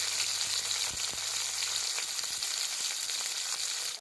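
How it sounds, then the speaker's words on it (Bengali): Bitter gourd and green banana fry in hot oil in a wok, a loud, even, close sizzle that runs throughout with a few light knocks of stirring. "তেল গরম হয়ে গেছে উচ্ছেটা ভেজে নেব উচ্ছের সাথে আমি কাঁচকলাটাও ভেজে নেব"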